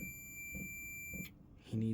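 A steady high-pitched buzzer tone from an old ESR meter sounds continuously, then cuts off, followed by a brief electronic blip.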